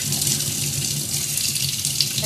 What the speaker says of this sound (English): And just run water over it.